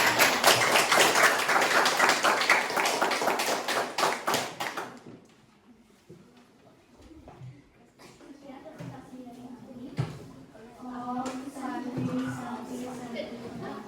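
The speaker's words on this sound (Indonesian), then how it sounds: "Oke, tepuk tangan." Schoolchildren in an elementary classroom clap their hands in a loud, dense burst lasting several seconds, then stop; a teacher and pupils then talk quietly over low room murmur.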